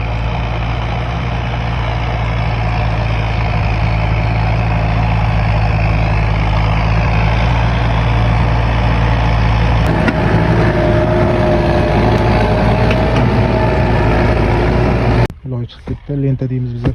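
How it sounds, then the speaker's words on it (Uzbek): A tractor drives out onto a field being ploughed for planting, its engine a loud, steady low drone with a constant hum that shifts in tone partway through before cutting out near the end. "Traktor chiqib kelyapti mana hozir."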